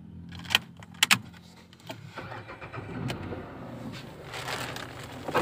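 A car engine starts up while parked in neutral for interior cleaning, preceded by a few sharp clicks and jangles, then a low rumbling idle settles in, fairly quiet and close.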